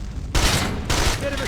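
Machine gun fire in the video game Ghost Recon Advanced Warfighter, two short loud bursts of rapid shots close by, each roughly half a second long.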